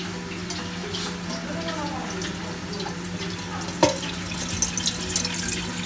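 Broth is strained and pours and trickles steadily into a pot, with a single metallic clank partway through and faint kitchen sizzling underneath.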